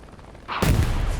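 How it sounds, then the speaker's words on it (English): Explosion in the Hell Let Loose World War II shooter game, a sudden loud blast that hits after a short buildup and rumbles on for the rest of the moment. "this Tiger's going to hear that explosion and should be able to turn around here and pop him"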